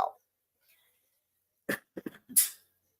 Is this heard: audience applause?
no